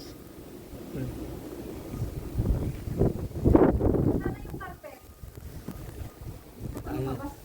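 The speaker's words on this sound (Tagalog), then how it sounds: "Ayan o, ang lakas ng hangin." Strong gusting wind in a Montreal snowstorm roars and buffets close to the microphone, rising in bursts, while people talk intermittently over it.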